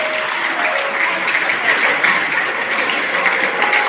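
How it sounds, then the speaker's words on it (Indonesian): Sustained applause from a crowd at a youth Christmas celebration of a GKS synod church in Southwest Sumba, an even, dense roar of many clapping hands that holds steady throughout. "Kita tepuk tangan dulu untuk Tuhan."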